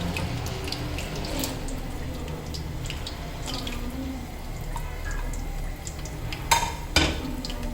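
Namak pare dough pieces dropped into hot oil give a steady, close frying crackle with scattered drips and splashes, and two sharper spatters near the end.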